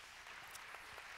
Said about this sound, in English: how about another round of applause for these folks?